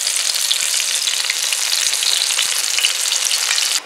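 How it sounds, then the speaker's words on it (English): Wild rabbit meat fries in a pan with a loud, steady, close hiss of sizzling oil and scattered small pops, continuous throughout until it cuts off abruptly at the end. "we're gonna let this cook real quick and then catch you guys when it's done"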